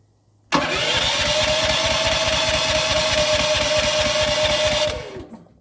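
A home emergency generator's starter cranks its engine for about four seconds in a loud, steady churning whir with a rapid pulsing beat, then winds down and stops without voices.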